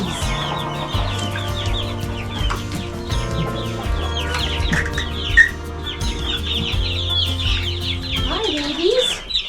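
Chickens clucking and calling in a backyard homestead coop on a spring morning, steady overlapping fowl calls with bird chirps throughout, loud and close.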